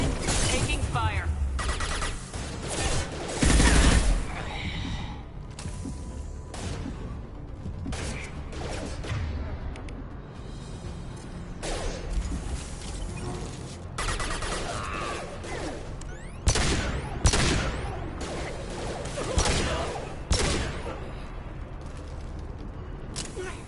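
A Mass Effect 2 firefight against Eclipse mercenaries brings repeated loud, close bursts of gunfire with impacts and crashes across the whole stretch, while voices call out over the shooting.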